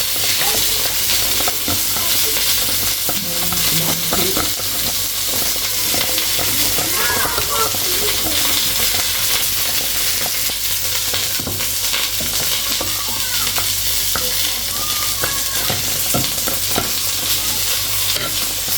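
Fish sizzles and bubbles in a pan of hot oil for a Sri Lankan Tamil fish curry and fried seer fish, a loud, dense, unbroken frying hiss close up.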